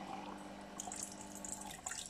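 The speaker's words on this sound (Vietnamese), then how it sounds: "rót nước này" Water pours from a Zojirushi CV-GT30 3.0-liter electric thermos dispenser running on its backup battery, a soft, continuous trickling and splashing stream, close but quiet.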